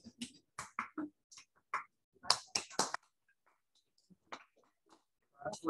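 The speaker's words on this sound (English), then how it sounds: "That's clapping for you." Scattered hand claps in a classroom, a few sharp, irregular slaps in quick bursts separated by quiet gaps, close and moderately loud.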